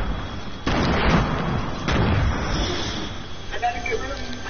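Grenades explode one after another in Fortnite, two heavy booming blasts about a second apart with rumbling debris between them, loud and close, while a voice talks over the action.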